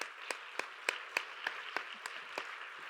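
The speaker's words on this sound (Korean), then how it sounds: "박수로 환영하도록 하겠습니다." A church congregation at a Sunday youth worship service claps to welcome a young first-time visitor: steady, evenly spaced claps from a small group, fairly faint and without voices.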